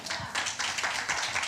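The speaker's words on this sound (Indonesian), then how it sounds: "Tepuk tangan" A church congregation claps hands during a sermon in a quick, brisk spatter of many overlapping claps, close and steady for a brief moment.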